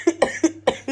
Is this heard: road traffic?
no